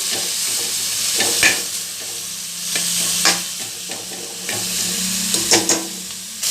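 Coriander leaves, tamarind, coconut and a little turmeric fry for masala in a pan, a steady broad sizzle with several sharp stirring scrapes spaced through it, close and alone with no voices.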